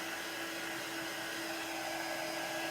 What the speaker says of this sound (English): I'm going to use a heat tool to dry this for a couple seconds